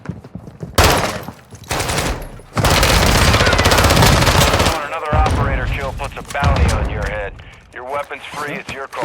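Heavy bursts of Call of Duty: Warzone DMZ gunfire come and go, loud and sustained, with people talking over and between the shooting.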